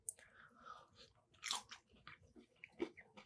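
Close crunchy bites and chewing of deep-fried honey garlic chicken, a few crisp crackling bursts with softer mastication between them, no talking.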